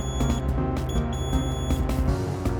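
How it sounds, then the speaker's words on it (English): A multimeter in continuity mode beeps as a computer mouse switch is pressed, giving a steady close tone broken by several brief gaps and repeated clicks. "If I probe the switch with my multimeter set to continuity mode,"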